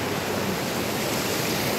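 Steady broadband rush of a small, normal-sized waterfall flowing, continuous and fairly close with no voices over it.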